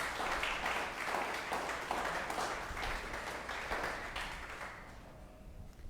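A church congregation gives a round of applause for Jesus during a sermon, a steady wash of clapping that holds for several seconds and then thins out near the end.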